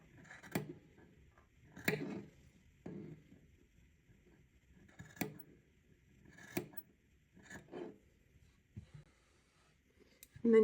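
Scissors cut macrame cord at an angle in a series of sharp, separate snips, close and fairly quiet, with pauses between each cut.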